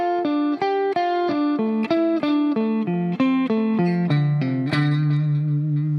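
A descending mixed-technique arpeggio lick on an electric guitar with effects, notes stepping steadily downward in a quick even run before settling on a sustained low tone, played alone and close.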